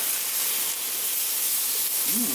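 Meat browning in a crockpot for a vegetable bean stew, heard as a steady, close, bright hiss of sizzling throughout, without pause.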